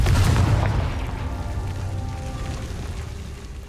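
A Confringo spell bursts in Hogwarts Legacy with a deep, booming blast at the start that rumbles and slowly decays, leaving a crackling, rain-like tail of debris.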